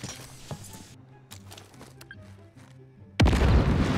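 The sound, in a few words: C4 explosion detonated via security camera in video game Warzone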